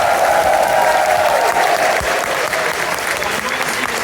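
A large convention audience applauds at the ConFuzzled 2026 opening ceremony in a Hilton hotel, producing loud, continuous clapping that fills the room with crowd murmur underneath.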